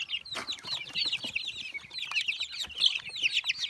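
Several mixed-breed and village chickens clucking and chirping in steady, overlapping bursts, fairly close, with light rustling in the background.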